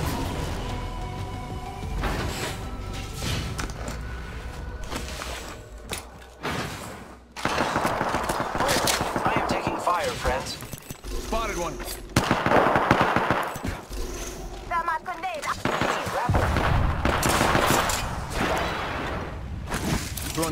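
Automatic weapon fire in Apex Legends, with dense, loud bursts and rapid shots recurring throughout alongside thuds and mechanical clicks, and no talk over it.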